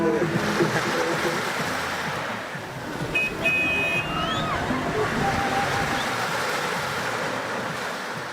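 Ocean surf at Playa Blanca in the Department of Córdoba, Colombia, washes and sloshes steadily in the background, mixed with wind and a passing vehicle.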